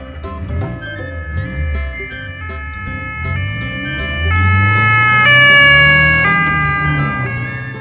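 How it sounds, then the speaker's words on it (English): Vintage police car siren sounding as a sustained, shifting tone over a rumbling engine, loud and close, rising in pitch and intensity toward the end. "Vintage police car"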